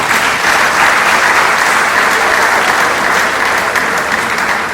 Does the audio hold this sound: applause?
yes